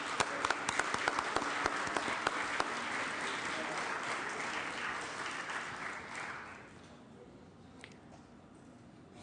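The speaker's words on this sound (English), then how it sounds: "A round of applause, please." Applause fills the Senate chamber, a dense wash of many hands clapping at a steady level for about six seconds before fading quickly to quiet room tone.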